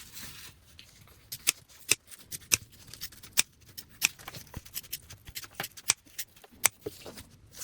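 Sharp scissors snip through fabric, trimming a bag's seam allowance to a quarter inch, in a quick irregular run of close, crisp cuts with no talking.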